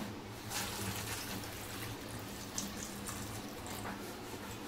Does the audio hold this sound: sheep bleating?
no